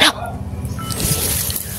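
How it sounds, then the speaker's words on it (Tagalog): Dog barking once at the start, fairly close, followed by a steady wash of water or outdoor noise with someone talking quietly. "Merong aso mga kaibigan, merong aso."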